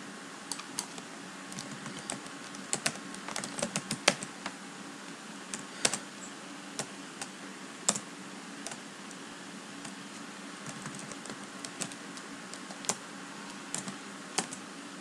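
Keys tapping in irregular bursts on a computer keyboard while a government job portal address is entered, close and fairly quiet, with no talk.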